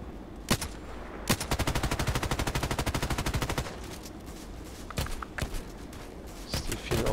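Gunfire in the video game Contract Wars: a few sharp single shots, then a long, even burst of rapid fire, then more scattered cracks, loud and close.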